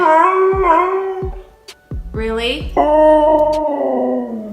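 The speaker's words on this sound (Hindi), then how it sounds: "चुप कर बे कुत्ते।" Dog howling and whimpering in long wavering pitched cries broken by short sharp yips, loud and close, with a brief spoken word in between.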